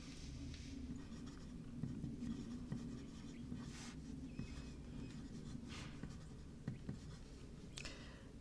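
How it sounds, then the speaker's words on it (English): A broad oblique fountain pen nib scratches across paper in soft, continuous strokes with brief pauses and lifts, heard close and quiet against faint room hum. "by the way I'm holding it as I write, it's a broad oblique."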